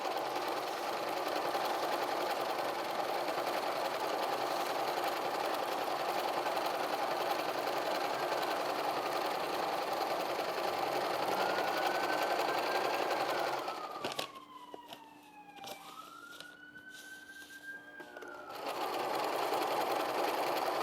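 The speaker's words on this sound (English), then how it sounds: "back and forth in the corners, and then sew down" A domestic sewing machine stitches an apron, its steady whirring hum running continuously, with a brief break in the middle where it stops and restarts amid faint handling sounds.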